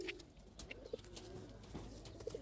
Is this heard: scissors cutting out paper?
no